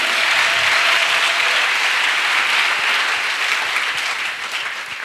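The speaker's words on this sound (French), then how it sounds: "Clap offering for Jesus Christ." A church congregation applauds loudly and steadily, a dense wash of clapping from a large crowd that tapers slightly toward the end.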